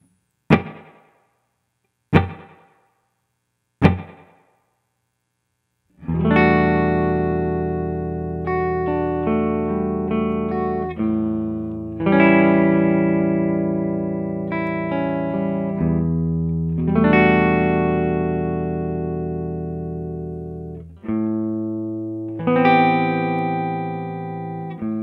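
An electric guitar through the Spring Fever spring reverb preset on a TC Hall of Fame Mini pedal plays three short plucked notes and then sustained ringing chords with a lush, lingering reverb tail.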